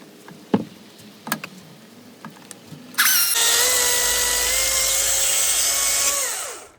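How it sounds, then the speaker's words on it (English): A power tool cuts a kerf into a wooden climbing hold, starting abruptly after a few light knocks and running as a loud, steady high-pitched whine for several seconds before winding down. "I'm going to cut along there so that you can't just grab the whole thing"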